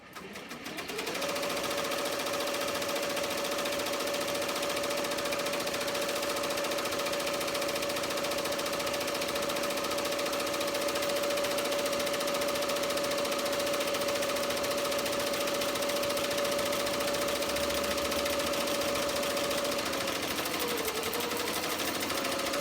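An embroidery machine stitches a teacher patch on 4 mm plastic, a steady fast mechanical whir with a constant hum that runs without a break for about twenty seconds before slowing to a stop.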